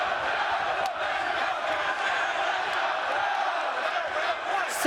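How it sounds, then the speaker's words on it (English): Wrestling arena crowd at TNA Xplosion roaring and cheering continuously, a dense wash of many voices with a few sharp shouts and claps rising above it, steady throughout. "It's almost better if we just lay out and let the crowd tell the story."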